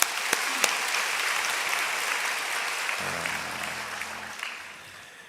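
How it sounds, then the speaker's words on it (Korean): A church congregation gives the choir a round of steady applause: even, continuous clapping with a few sharper claps, fading gently near the end over a low hum. "오늘 찬양대가 너무 잘해서 찬양대 보내는 박수로 대신하겠습니다"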